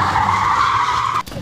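A Mazda Miata rental car driving, giving a loud, sustained tire screech and engine roar that holds steady before cutting off abruptly near the end.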